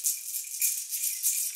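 A small toy ball rattles with continuous jingly shaking, close and moderately loud, with brief swells in intensity and no talking.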